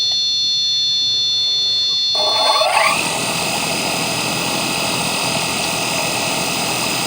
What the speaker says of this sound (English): Throttling up, throttling down, throttling up.